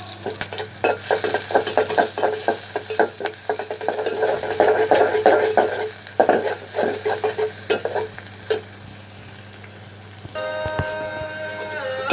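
Chopped onion and green chili fry in hot oil for a prawn and taro dish, giving a loud close sizzle with rhythmic stirring scrapes that fade toward a quieter hiss near the end.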